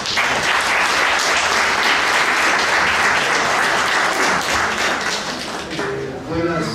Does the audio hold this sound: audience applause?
yes